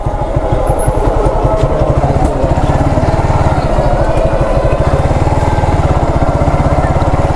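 A motorcycle engine runs close by in a steady, rapid idling throb, loud and unbroken as the bike is being parked.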